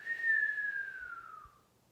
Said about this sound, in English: Then we are going to make a whistling sound.